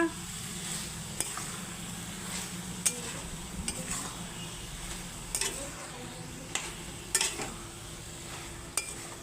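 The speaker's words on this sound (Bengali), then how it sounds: "এখন নাড়াচাড়া করব আমি" Sliced ridge gourd with turmeric powder sizzles in a pan while a spoon stirs it, sharp scraping clicks recurring at irregular intervals over a steady frying hiss, with faint speech in places.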